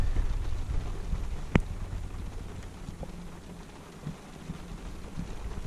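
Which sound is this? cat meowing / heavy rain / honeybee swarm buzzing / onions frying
heavy rain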